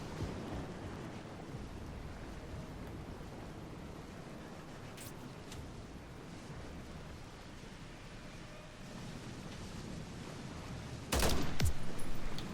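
Fully automatic rifle fire in the Modern Warfare III campaign, played on Xbox Series X, heard as a dense, steady wash of gunfire that runs throughout and grows louder near the end, with a few sharp bursts standing out.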